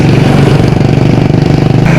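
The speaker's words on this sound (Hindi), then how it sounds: "मुझे तो वैसे भी मेरी बाइक का बस जो गंदी आवाज़ आ रही है इंजन से, मिट्टी जाने की वजह से, वही सुनाई दे रही है अभी तो" A motorcycle engine runs roughly because dirt has got inside it. It throbs loudly and close with an uneven, sputtering pulse on a mountain road ride to Govindghat, and no voices are heard.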